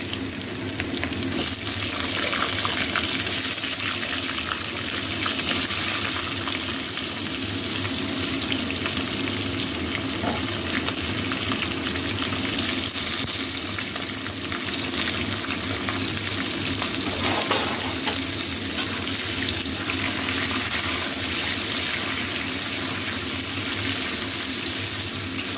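Pumpkin pieces frying in a pan for khichuri, giving a steady dense sizzle that holds constant for the whole stretch with no talk over it.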